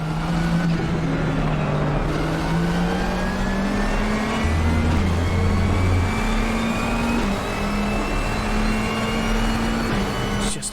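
McLaren race car from the 2021 DTM series in the RaceRoom racing game, its engine droning steadily at high revs throughout with rising pitch sweeps as it accelerates, loud and continuous with no talk.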